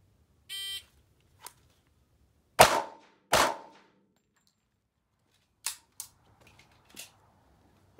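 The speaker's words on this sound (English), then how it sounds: "that's four rounds fired" Handgun shots at a firearms training range, two loud sharp reports close together followed by quieter distant pops and a brief electronic beep, no talk.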